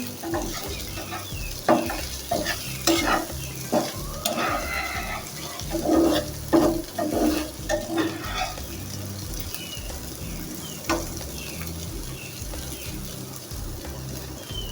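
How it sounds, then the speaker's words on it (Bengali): Bitter gourd (korola) fried in a pan for korola bhaji, giving a steady close sizzle with repeated scraping and stirring clatters throughout, no talking. "করলা ভাজিটা হয়ে গেছে এখন নামাই নিব আমি"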